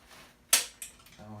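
Torque wrench clicking while engine bolts are tightened during a forged stroker engine build: one sharp metallic click followed by a softer second click, close and brief, with a bit of background noise.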